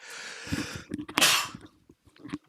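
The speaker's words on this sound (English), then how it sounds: "Excuse my sneeze right there." A sharp sneeze bursts out once amid bits of speech and background game noise, loud and close.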